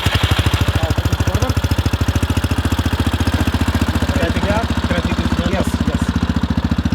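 Quad bike engine starting and settling into a steady, loud, rapid putter close by, with people talking briefly over it.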